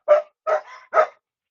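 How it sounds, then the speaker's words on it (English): A dog lets out three sharp barks in quick succession, close and loud, the middle bark trailing into a brief whine, with silence between them. "So he's uh he's quite good at barking when he wants to bark."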